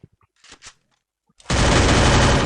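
Video game gunfire bursts in loudly and keeps going as a continuous rapid stream of shots, after a few brief voice sounds and quiet clicks.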